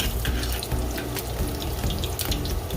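Garlic and pimento seeds fry in hot oil in a pot for Jamaican oxtail, a close, steady crackling sizzle with scattered pops running throughout.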